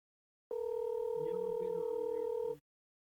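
A telephone call rings on the line as a steady, unbroken electronic tone lasting about two seconds, with faint muffled voices underneath.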